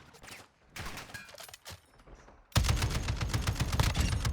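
A vehicle turret firing at bots in the DMZ mode of Call of Duty, a few scattered shots at first, then a loud sustained burst of rapid automatic gunfire.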